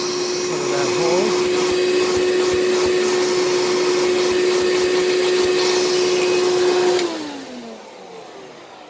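A Hoover Caddy Vac canister vacuum cleaner fitted with a Dyson DC-14 crevice tool whines steadily and loudly for about seven seconds, then its pitch slides down as it switches off and winds down.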